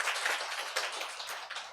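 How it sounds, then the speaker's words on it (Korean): A church congregation claps together for a short stretch, a dense, fairly quiet patter of many hands with small surges, with no talking over it. "우리 하나님께 박수 올려드려요."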